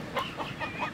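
A young rooster, not yet full grown, clucks and murmurs softly in a few short, close calls spaced across a second, with no voices.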